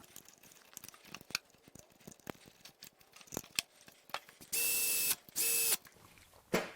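Ratchet clicking as a bolt is tightened on the bracket of an LS-swapped 80 Series Land Cruiser, uneven close mechanical clicks and knocks, then two long loud steady electronic tones.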